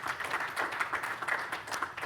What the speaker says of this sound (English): please give them a round of applause for joining us up here.